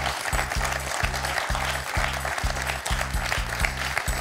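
A studio audience on the quiz show Questions pour un champion applauds a contestant with dense, sustained clapping, loud and continuous, while a pulsing low rhythmic beat runs underneath.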